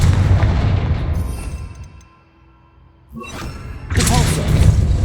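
A Confringo fire spell blasts in Hogwarts Legacy, a loud rumbling burst that fades into a near-silent gap, then a second heavy explosive roar erupts and carries on loudly to the end.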